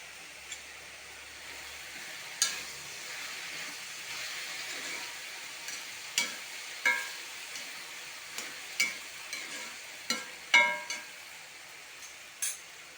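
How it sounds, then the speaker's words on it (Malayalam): Tomatoes added to a hot pan for a Kerala colocasia-leaf theeyal give a faint, steady sizzle with scattered sharp crackles and pops that recur irregularly over the frying. "നമുക്ക് ആ തക്കാളി അങ്ങ് ഇട്ട് കൊടുക്കാം"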